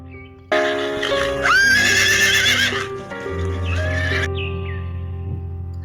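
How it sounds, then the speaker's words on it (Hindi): A horse whinnies loudly and close, a long shrill neigh with wavering pitch that breaks off and then returns as a quieter snort and whinny, with no other sounds. "घोड़ा"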